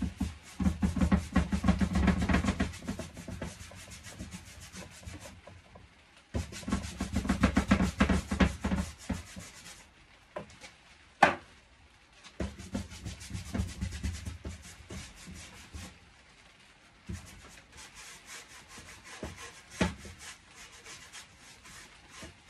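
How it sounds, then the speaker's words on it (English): A coat of wax is rubbed onto chalk-painted wooden furniture with a cloth or brush, making steady scrubbing strokes in long bursts with brief pauses, close and soft. "just going to give it a quick coat of wax"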